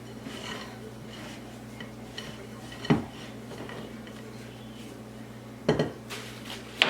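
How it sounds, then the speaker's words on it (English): A spatula scrapes the sides of a mixing bowl of coffee cake batter with flour and sour cream, giving a few separate scraping clinks against a quiet kitchen background. "I'm going to scrape down the sides of my bowl just to get that flour all mixed in"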